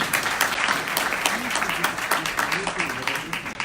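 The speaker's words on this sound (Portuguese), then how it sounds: "Palmas para a nossa participante sorteada." An audience at a legal workshop for building managers claps for a raffle winner, brisk continuous applause with a voice speaking over it.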